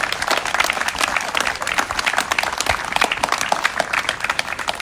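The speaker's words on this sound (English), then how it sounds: "Join me in a round of applause, ladies and gentlemen, our newest buyers to Mentone." An auction crowd gathered outside a house in Mentone applauds the newest buyers with steady, dense clapping throughout.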